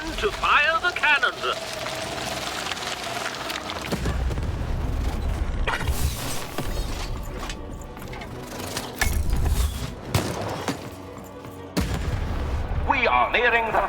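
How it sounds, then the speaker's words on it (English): A cannon fires during a board game battle in the Lost in Random video game, with booming blasts and mechanical clatter over continuous game effects, loud and close. "Shoot the button to fire the cannon."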